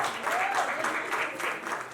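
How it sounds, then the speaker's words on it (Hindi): An audience at a Bollywood comedy film trailer launch breaks into steady, dense applause that carries evenly through the two seconds, with a faint voice rising briefly underneath. "तालियां प्लीज."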